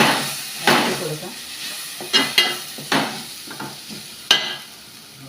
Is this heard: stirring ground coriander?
yes